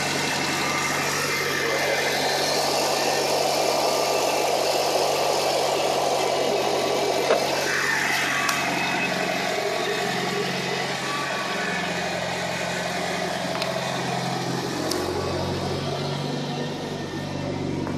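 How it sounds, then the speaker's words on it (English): A cold 2003 Mitsubishi Lancer Evolution 8 with a modified 4G63 engine idles steadily and close, a faint light ticking of the lifters running under the even engine drone throughout. "it's got the classic lifter tick noise. You can kind of hear it a little bit."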